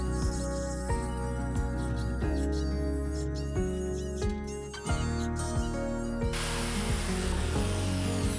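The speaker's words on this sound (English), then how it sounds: "And then I just simply cut out the shape with the jigsaw." Jigsaw cutting a traced circular shape out of a sheet of plywood, a steady buzzing cut with harmonic whine that runs continuously and loud throughout, rising in pitch near the end.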